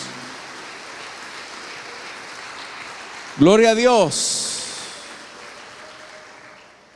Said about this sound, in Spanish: Démosle fuertes ofrendas de palmas a nuestro Dios, hermanos.